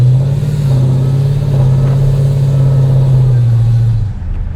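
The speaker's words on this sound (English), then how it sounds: "That's how a Trackhawk should sound" Jeep Trackhawk engine held at high revs during launch control, a loud steady low drone that holds level for several seconds before dropping away, heard up close with no talking.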